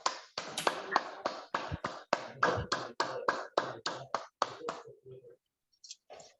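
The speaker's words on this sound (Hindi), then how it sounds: "हम सब तालियां बजा करके स्वागत करते हैं" A welcoming round of applause for a guest speaker comes as crisp, evenly spaced claps in a steady rhythm, close and moderately loud, stopping after about five seconds with a couple of faint trailing sounds.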